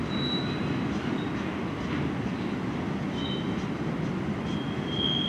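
A CN westbound mixed freight train rolls past at Port Huron, Michigan, in a steady loud roar of wheels and rail noise, with brief high squeals of the wheels at moments and no talking.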